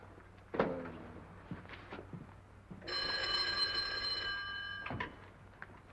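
An old-fashioned telephone bell rings in a 1939 detective film, a steady electric ringing lasting about two seconds and loud against a quiet room, with a few soft thumps and movement noises before and after.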